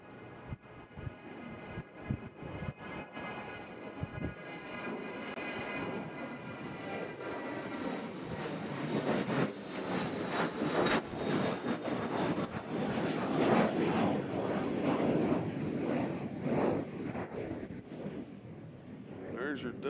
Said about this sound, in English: Got this really small plane here. Looks like a Cirrus.